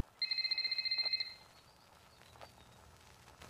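A telephone rings in the 2008 horror film The Strangers, one loud trilling burst of about a second, followed by quiet, faint room tone.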